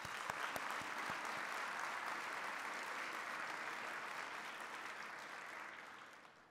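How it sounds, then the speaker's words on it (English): An audience claps at a nursing leadership event in Illinois, with a few sharp individual claps at the start. Steady, faint, distant-sounding applause follows and slowly fades out. "Let's give them another round of applause."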